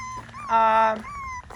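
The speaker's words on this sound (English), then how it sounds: "see if this pup will shut up and quit crying" A Schnoodle puppy lets out a single close, loud, high whimpering cry that lasts about half a second, with softer whining before and after.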